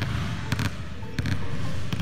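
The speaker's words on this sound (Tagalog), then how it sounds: "Pantay-pantay din ang tunog ng dribble ng bola." A basketball being dribbled in an even rhythm, three dull thuds roughly evenly spaced over a low background hum.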